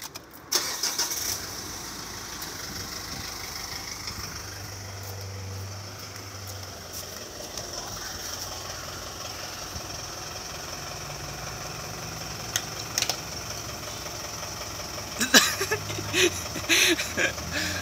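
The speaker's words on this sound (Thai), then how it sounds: "ผมจะไปสตาร์ทรถ" A car engine cranks and starts, then settles into a steady idle for a long stretch, with some faint clicks and brief voices late on.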